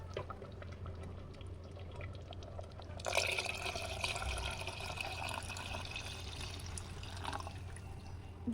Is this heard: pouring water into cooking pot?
yes